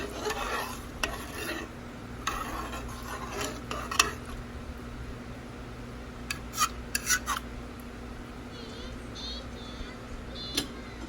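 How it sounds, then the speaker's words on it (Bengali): Rice is stirred in a pot for mutton biryani, with a soft continuous sizzle under repeated clinks and scrapes of a metal spoon against the pot. "চালটা দিয়ে দিলাম, আবার নেড়ে ছেড়ে দিলাম।"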